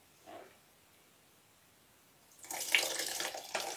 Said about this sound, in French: Du coup, je vais rajouter de l'eau chaude.